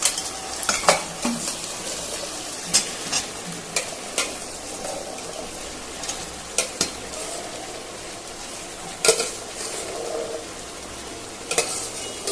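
Potatoes frying in a pan under a soft steady sizzle, punctuated by repeated sharp scrapes and clinks of a spatula stirring against the metal.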